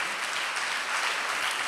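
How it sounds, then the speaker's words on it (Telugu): A church congregation claps loudly during a pastor's sermon, producing a thick, even wash of many hands clapping together without pause. "గట్టిగా చప్పట్లు కొట్టండి."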